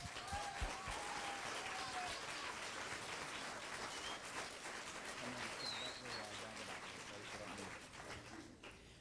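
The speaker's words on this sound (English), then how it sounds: "Let's give him a round of applause." An audience at an elementary school fifth grade graduation applauds steadily, a dense, even wash of many hands clapping at once that holds for several seconds with faint voices mixed in.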